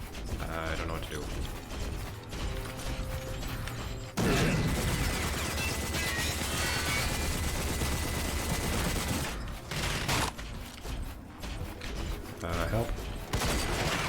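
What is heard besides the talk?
gunfire from the video game Rage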